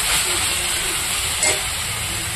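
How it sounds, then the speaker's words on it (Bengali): Fried mola fish go into a pan of simmering Bengali chorchori, giving a steady close hiss and sizzle with a brief louder spit partway through. "এই যে এখানে ভেজে রাখা মরলা মাছগুলো আমি দিয়ে দিলাম।"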